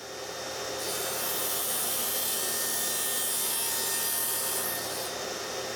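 A power saw runs on a precision miter sled set to 25 degrees to cut wooden parts for a sharpening jig. The whine starts and rises into a loud, steady cut through wood that holds for several seconds, then eases off near the end.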